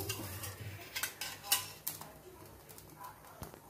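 A metal kadai pan is set onto a kitchen stove with a few sharp clanks and taps, a louder metallic knock in the middle and lighter clinks after, close by and under a faint background hum.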